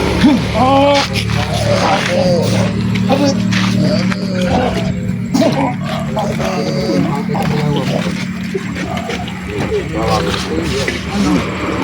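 A tiger roars in repeated loud, rumbling bursts close by, mixed with overlapping shouting voices and other commotion.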